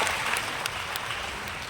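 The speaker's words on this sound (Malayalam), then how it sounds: "ഒരു നല്ല കൈയടി സാറിന് വേണ്ടിയാകാം" An audience at a meeting in Rajagiri hall, Kakkanad, claps in a short, steady burst of applause that fills the room evenly from start to finish.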